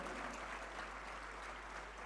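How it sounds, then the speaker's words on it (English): Audience at an international drug regulators' conference in India applauding steadily, a dense, even wash of clapping that holds at a moderate level for a couple of seconds without voices. "let's hear a huge round of applause for all of us present here"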